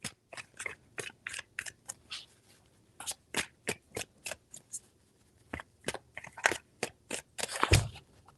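Tarot cards shuffled in quick riffling bursts, a rapid series of crisp flicks and snaps, close and fairly loud, with short pauses between runs.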